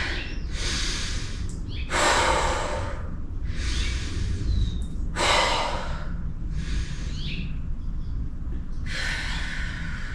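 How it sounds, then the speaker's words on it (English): Slow, deep breaths taken while lying with arms overhead and knees falling open in a yoga session: about six long, airy inhales and exhales at a steady, unhurried rhythm, close and clearly audible, with no talking. "Take a few slow breaths."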